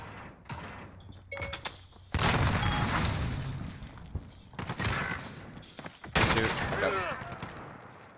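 RAM-7 assault rifle fire in the Modern Warfare video game: several bursts of gunfire with booming thuds, loud and fairly close, separated by short quieter gaps with faint background game sounds.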